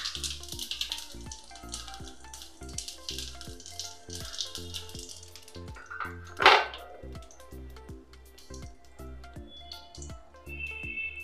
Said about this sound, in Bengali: সাদা জিরা ফোড়ন দিয়ে দিলাম।